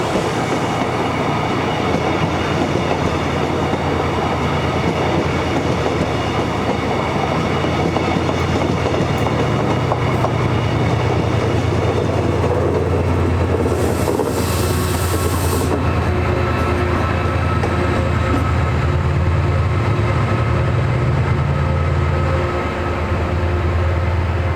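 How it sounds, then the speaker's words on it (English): A Class 68 locomotive in Pennine Express livery runs through Edge Hill railway station, a loud continuous roar of engine and rolling wagons with rhythmic wheel clatter lasting throughout, up close and unbroken. "Class 68 with Pennine Express livery also passed through the station."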